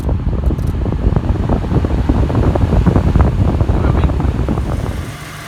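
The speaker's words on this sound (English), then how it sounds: "If I turn the fan up any faster, you won't be able to hear me." A Suzuki Grand Vitara's air conditioning blower fan roars steadily and loudly, a dense broadband rush that holds for several seconds before easing slightly at the end.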